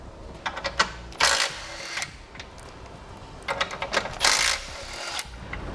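Bolts coming off a bumper beam brace on a 2017 Chevrolet: bursts of rapid ratchet clicking and metallic tool rattles in short spurts separated by pauses, close up in a quiet shop.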